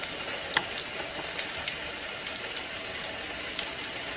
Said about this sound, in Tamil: சீரகம் தாளிக்கிறதுக்கு,